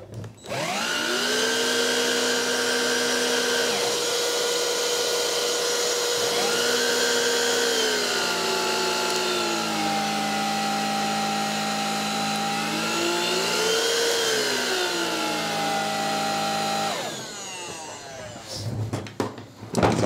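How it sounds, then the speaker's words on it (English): A Craftsman V20 cordless stick vacuum runs with its brush roll, a loud close motor whine that shifts pitch up and down as suction settings change, then cuts off near the end with handling clatter. "show it to you with the brush roll."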